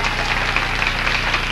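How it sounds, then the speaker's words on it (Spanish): Short, sustained applause from a studio audience at a salsa dance contest, many hands clapping in an even wash at moderate loudness with no voices over it. "Fuerte aplauso para la pareja de la izquierda."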